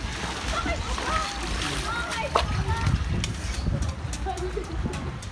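Water splashes and sloshes as people wade through nearly knee-deep flood water, with voices talking over the steady churning.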